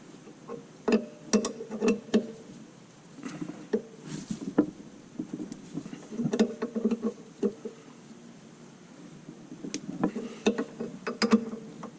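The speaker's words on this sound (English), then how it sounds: "So that's replacing the belt" Replacing a water pump belt on a Detroit 4-53 diesel engine, with a strong spare air conditioner tensioner: irregular metallic clicks, clanks and ratcheting taps of hand tools, close by and scattered throughout with short pauses.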